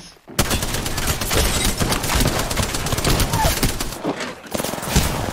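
Rapid automatic gunfire in the battle royale shooter Apex Legends, loud and near, bursts of shots rattling almost continuously with a brief pause near the end.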